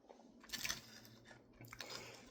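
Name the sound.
chewing a Cheetos Flamin' Hot birria bomb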